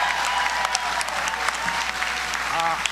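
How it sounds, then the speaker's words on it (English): A crowd at a paid family leave rally with the Governor and Vice President claps steadily for a row of assemblymen, a continuous dense applause with some faint voices mixed in underneath. "Let's give them all a big round of applause, everyone."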